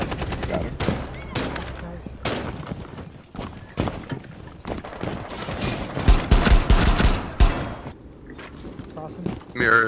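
Gunfire in the video game Rainbow Six Siege, with sharp bursts and rapid volleys of shots scattered through the stretch and a dense cluster near the end, mixed with players talking over voice chat.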